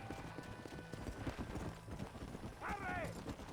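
A horse gallops in the Western video game Red Dead Redemption, a quick steady clip-clop of hooves with a whinny near the end, while voices shout over it.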